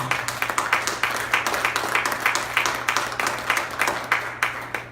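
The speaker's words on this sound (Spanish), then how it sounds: "Dele ese aplauso a Jesús, hermano." A crowd applauding steadily, dense rhythmic clapping that carries on throughout at a fairly loud level, with no talking.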